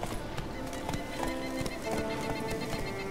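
Hooves clip-clop at a steady gallop as Roach the horse runs in The Witcher 3, with a brief whinny over the rhythmic beats.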